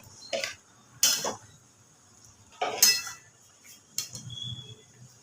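Fried paneer cubes go into a pan of cashew and poppy seed paste: four or five sharp metallic clinks and taps of a spoon against the pan, spaced out, close and fairly loud over a quiet background.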